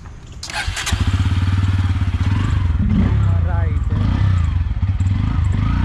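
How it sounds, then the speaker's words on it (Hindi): A motorcycle engine catches and settles into a steady, close throbbing run as the bike pulls away along a town road near Barauli Bazar in Gopalganj, with people talking over it. "आप बाइक को स्टार्ट कीजिए, हम लोग निकला जाए।"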